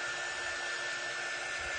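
A hair dryer blows steadily and close by, a continuous broadband whoosh as it dries shimmer paste on a Halloween jar, with no talk over it.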